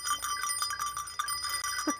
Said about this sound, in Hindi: इसकी घंटी बहुत प्यारी है यार